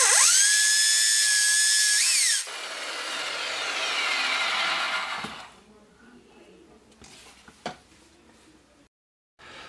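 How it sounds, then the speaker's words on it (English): Mains power drill boring into a solid wall, a loud high whining bite for about two seconds, then grinding and scraping of the bit in masonry fading to quieter handling noises and a few knocks. "I'm also gonna be using my mains power drill"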